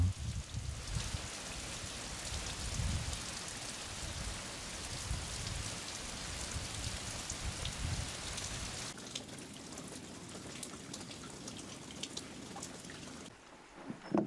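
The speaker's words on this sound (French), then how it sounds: "une averse tropicale va nous confiner à l'hôtel" A tropical rain shower in Madagascar pours steadily near a hotel, a dense hiss of falling drops and patter on surfaces throughout, heavier and fuller at first, then thinner.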